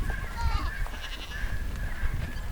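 Kiko goats bleating on a farm, several wavering calls overlapping at moderate distance, with people talking faintly and outdoor rustling underneath.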